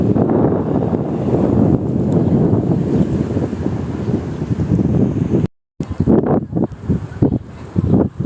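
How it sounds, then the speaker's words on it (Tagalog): Strong wind along a waterfront promenade by the sea, buffeting the microphone in a loud continuous roar with gusty surges, briefly cutting out before resuming in rougher bursts. "Mahangin."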